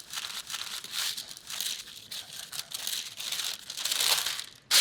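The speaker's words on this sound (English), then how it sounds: "And if you want to make your parchment fit really well, just fold it" Parchment paper being folded and creased by hand to line a quiche pie crust, a run of close, crisp crinkling and rustling bursts ending in a sharp crackle, with no voices.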